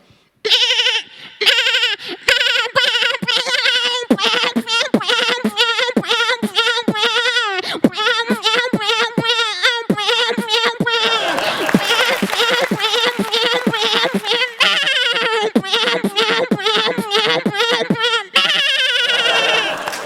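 A beatboxer mimics a goat's bleat in repeated wavering cries, chopped into a rhythmic beatboxed pattern with sharp percussive hits, loud and close throughout.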